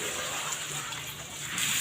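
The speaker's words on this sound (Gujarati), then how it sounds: "હું હાંડાની અંદર જ પાણી નાખી દઉં" Water pours into a metal pot at home, a steady continuous gush and splash that runs without pause, fairly close and even in level.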